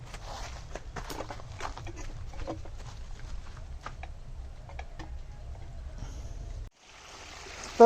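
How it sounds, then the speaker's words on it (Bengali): An electric water pump motor runs inside a newly fitted pipe while water pours out: a steady low hum with light splashing and patter that cuts off near the end, followed by a brief burst of louder noise. "জল বেরোচ্ছে মোটর চালিয়ে দিয়েছি জল একদম পড়ছে সুন্দর"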